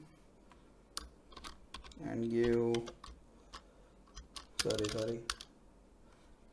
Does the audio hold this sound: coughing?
no